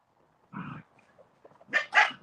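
A 10-week-old puppy gives a few short, high yips and barks nearby, one soft bark and then two sharper ones in quick succession.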